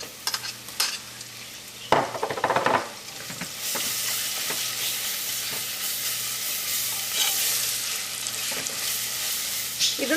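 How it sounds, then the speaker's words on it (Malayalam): Ginger garlic paste sautéing in butter in a pressure cooker for chicken biryani, a steady broadband sizzle with stirring scrapes and a few sharper clatters near the start, close and continuous throughout. "ഇതും നമുക്ക് ഈ ബട്ടറിലിട്ടിട്ട് നന്നായിട്ടൊന്ന് വഴറ്റാം."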